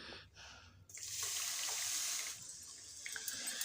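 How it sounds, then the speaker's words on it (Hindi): Milk pours from a bowl into semolina in a pan, a soft continuous liquid stream lasting about a second and a half, close and fairly quiet, then trailing into faint stirring. "पहले आप 1 कटोरी दूध डाल करके इसे अच्छी तरह से मिक्स करें ताकि इसमें लम्स ना हो।"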